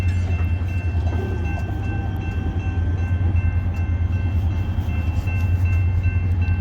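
A DeQueen and Eastern Railroad freight train with GP40-2 and GP38-2 diesel locomotives rumbles past steadily, with a deep continuous drone and rattling wheel noise throughout, close and loud.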